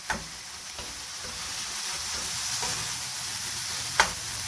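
Minced keema sizzling as it fries on a tawa: a steady bright crackle with a few sharp spatula clinks while it is stirred and chopped, close and continuous, with no voices.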